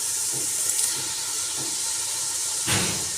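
Chopped tomatoes land in a pan of frying garlic and ginger, setting off a steady loud hiss of sizzling with a sharper burst near the end.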